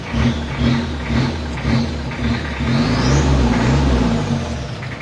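A 1982 diesel car engine with a newly fitted turbo and an idle that is not yet set evenly, running with a loud, rough, steady drone that swells a little partway through.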